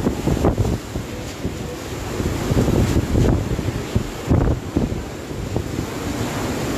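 Strong Super Typhoon Rolly (Goni) winds battering Naga City, a loud, continuous roaring buffet against the microphone with surging gusts and rumbling bursts throughout.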